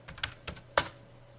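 Typing on a computer keyboard while entering a search term in Eclipse preferences: a few quick key clicks in short bursts, close and clear, with no talking.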